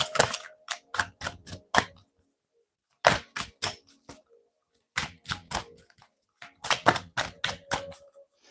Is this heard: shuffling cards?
yes